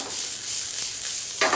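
Chopped onion and garlic frying in a generous amount of olive oil in a heavy brass pan, a loud continuous close sizzle with a sharper burst of crackling near the end.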